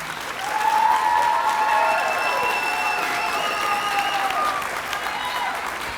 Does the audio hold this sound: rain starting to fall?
no